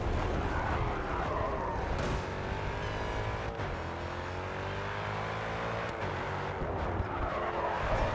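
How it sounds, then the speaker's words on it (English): Race cars in the racing video game GRID 2 roar behind the player, engines revving and shifting pitch with tire squeals and skids over several seconds of continuous, loud motor noise. "I can definitely hear cars behind me"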